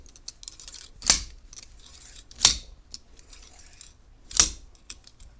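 Pliers twisting safety wire on motorcycle grips: three sharp, bright metallic snips or clicks spaced a second or two apart, close and isolated, with faint small handling noises between them.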